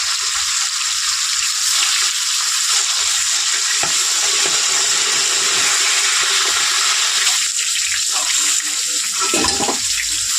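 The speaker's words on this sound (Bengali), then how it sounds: "তেলটা একটু গরম হোক ভালো গরম হলেই মাছটা দিতে হবে" Pieces of stingray fish fry in hot oil with a loud, dense, unbroken sizzling hiss that fills the whole stretch, close up, with a few brief lower clatters partway through.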